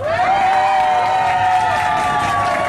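Partygoers aboard the Bimini yacht on a San Andrés island night tour clap and cheer together, a dense, loud, continuous wash of applause and shouts with high-pitched voices mixed in throughout.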